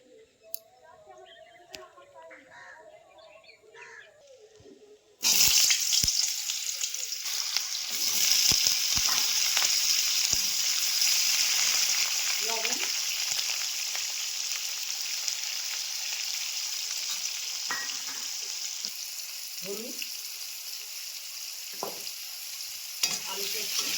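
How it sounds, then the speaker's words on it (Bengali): Potato pieces fry in hot oil until reddish brown, a dense, steady sizzle that bursts in suddenly after a few quiet seconds and keeps going, with occasional stirring scrapes and a voice speaking at times. "আলু লাল লাল করে ভেজে নিয়েছি"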